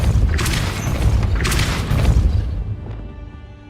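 Depulso spell cast in the Hogwarts Legacy video game: loud, dense blasts and booming whooshes pulse through the clip, two big surges fading near the end into a softer tail.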